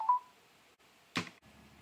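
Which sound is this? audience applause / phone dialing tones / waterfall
phone dialing tones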